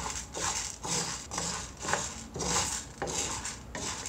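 Urad dal roasting in a pan is stirred steadily with a spoon, giving rhythmic scraping and clinking strokes against the metal roughly twice a second.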